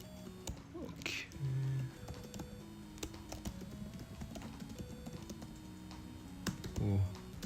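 Typing on a computer keyboard in a typing race game, quick irregular clicking keystrokes close by, quiet, with a couple of louder thumps and a voice briefly in the background.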